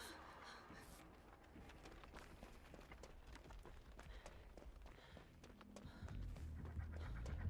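Heavy, dog-like panting from a survivor character in the video game Dead by Daylight, continuous and close, with footsteps and in-game ambience rising toward the end.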